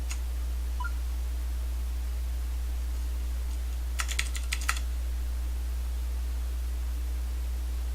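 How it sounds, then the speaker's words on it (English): A quick burst of crisp clicky keystrokes on a Razer BlackWidow Ultimate mechanical keyboard with Cherry MX Blue switches, lasting under a second amid quiet steady hiss and hum. "It uses Cherry MX Blue switches, so it's clicky."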